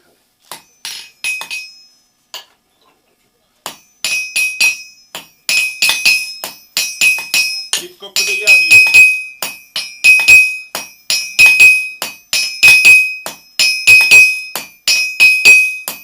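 Repeated sharp metallic taps of a small hammer, ringing and glassy, struck in quick clusters with short pauses between groups.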